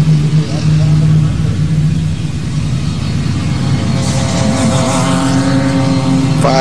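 A race car spins off into the grass and strikes a pavement berm on a racing circuit, heard as a continuous loud engine roar and rumble with scraping, tumbling noise toward the end.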